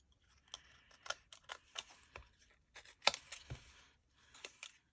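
Quick, crisp snips of small scissors cutting paper, a close series of sharp clicks coming in irregular bursts with brief pauses.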